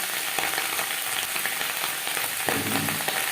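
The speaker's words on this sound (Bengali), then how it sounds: "পেঁয়াজ করি ভাজবো হাই টু মিডিয়াম ফ্লেমে" Onion stalks (peyaj koli) frying on a high-to-medium flame, a steady dense sizzle that holds near and loud throughout, with brief louder crackles as the pieces shift in the oil.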